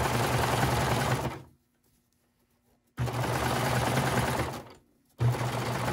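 A sewing machine stitches the sleeve of a thrifted garment in two loud bursts of rapid, even stitching separated by a pause of silence, then a third burst starts at the end.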